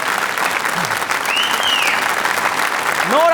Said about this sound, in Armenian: մի հատ բարձր ծափերով ողջունենք բոլոր մարդկանց